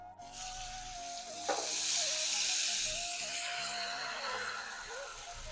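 Potato pieces for samosa filling frying in spiced oil with turmeric and salt, a broad hissing sizzle that swells after a stir and holds steady, fairly close, with no speech.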